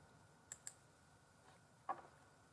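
A computer mouse is clicked to save a bookmark folder, giving a few faint, sharp clicks, isolated and quiet against a soft room hush.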